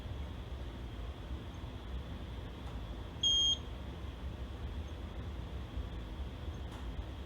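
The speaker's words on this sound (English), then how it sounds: "pH meter actually counted itself as stable for a second. It made the beep" A pH meter gives a single short, clear electronic beep as its reading stabilises, sounding once midway over a faint, quiet room hum.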